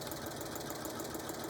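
A sewing machine stitching down fabric on a tool carry bag, a steady continuous whirring hum with no pauses and no voice over it.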